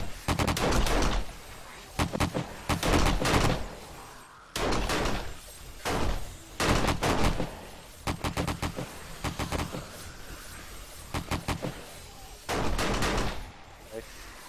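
Players fire at zombies in a video game. Loud bursts of rapid gunfire come in repeated volleys about every second or two, separated by brief quieter gaps, and keep going throughout.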